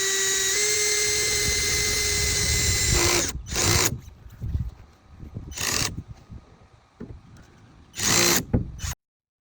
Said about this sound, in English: Yes, that was me struggling to get the drill through the metal.